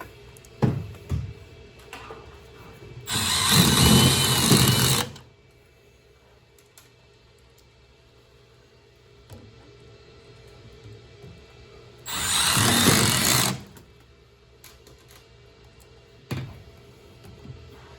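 Power drill driving screws during a 75-gallon water heater installation: two sustained whirring bursts of about two seconds each, separated by a quiet stretch with light knocks and handling noises, no talking.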